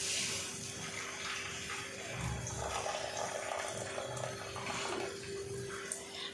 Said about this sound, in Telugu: ఇలా ఈ వాటర్ని మనం కొంచెం వంచేసుకోవాలి.